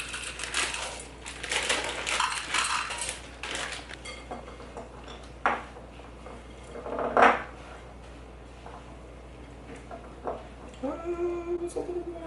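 Chocolate morsels are stirred into a warm condensed milk mixture in a bowl, giving scattered clinks and scrapes of a utensil against the bowl, close and fairly quiet, with a brief voice near the end.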